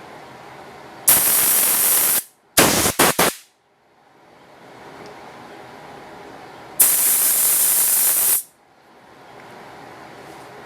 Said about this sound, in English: I'm going to blow this out. I mean, I hope most people have an air compressor.